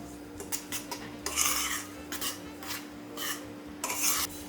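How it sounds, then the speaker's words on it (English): A spoon stirs dry cake mixture of flour and cinnamon in a bowl, making close, repeated scraping and clinking strokes against the bowl in an uneven rhythm, with no talking. "So you're going to stir your dry mixture now."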